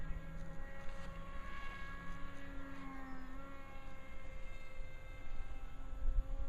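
A Dynam Hawk Sky RC plane with very big wings flies stunts, its electric motor whining steadily at middle distance, the pitch sliding up and down as it rolls and loops, with wind buffeting close by.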